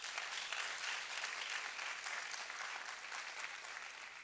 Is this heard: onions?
no